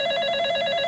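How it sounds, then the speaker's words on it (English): A kitchen telephone rings with a steady, bright electronic trill, close and loud, for under a second, alone. "Just then, the kitchen phone rang."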